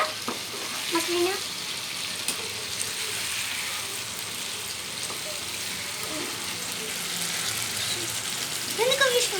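Food fries in a pan while it is stirred, giving a continuous close sizzle with scraping stirs, and a voice talks intermittently over it.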